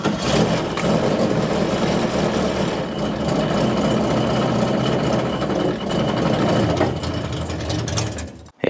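A car engine cranks and fires, popping and sputtering steadily with no fuel reaching it, loud and close throughout, on a car with a worn-out clutch.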